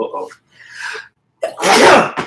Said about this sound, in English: Sneeze will be the death of me.